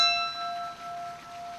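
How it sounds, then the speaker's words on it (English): A shiny silver bell rung at a firefighters' memorial gives a single clear, ringing strike that sustains and slowly fades, heard alone and fairly close. "A shiny silver bell pierced the air after each name was read."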